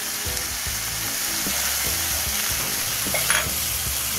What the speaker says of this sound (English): Stir this in nicely and let this cook for probably about 8 to 10 minutes